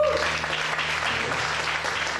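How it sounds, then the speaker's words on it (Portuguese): Church congregation applauding during a sermon, a steady dense wash of clapping that carries evenly throughout without pause. "Dá uma salva de palmas para ele."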